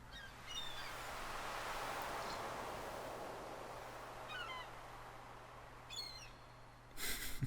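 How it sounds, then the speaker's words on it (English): Several gulls cry out in short bursts in the video game Stardew Valley, over a steady background hum and ambient wash, with a brief clatter near the end. "Just the sound of the gulls in the background."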